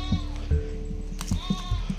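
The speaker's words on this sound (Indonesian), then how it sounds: "Dan ini merupakan kandang kambing warga di sini" Goats in a village goat pen let out several close, loud bleats in quick succession, overlapping one another amid low background noise.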